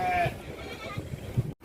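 A single bleat from a sheep or goat rises briefly at a busy village livestock market selling sheep and goats, followed by faint background murmur and low voices.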